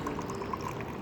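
Water poured into a cup for coffee at a Costa Rica breakfast, a steady close trickling pour running throughout with no talk.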